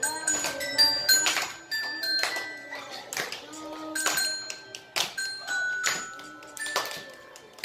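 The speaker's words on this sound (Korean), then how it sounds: "실로폰 좋았어요." Xylophone played at a small children's concert, bright struck bar tones in a steady rhythmic melody of repeated notes, with clapping and voices faintly around it.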